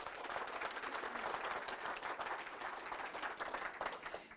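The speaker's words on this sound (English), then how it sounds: "Let's give her a round of applause." Steady audience applause at a business presentation evening, dense even clapping from a crowd lasting throughout at moderate distance, with no pauses or talking.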